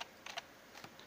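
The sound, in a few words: typing on computer keyboard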